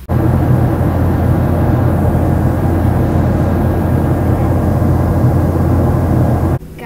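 Inside an airplane cabin on a short 45-minute flight, a loud, constant low engine and air roar fills the clip, then cuts off abruptly near the end.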